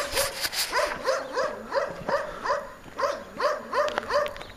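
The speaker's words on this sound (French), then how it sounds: "Oh, on a un chien." A watchful, unfriendly dog barks over and over in a steady run of about a dozen sharp, fairly loud woofs in quick rhythm at an early-morning outdoor spot, with no talk over it.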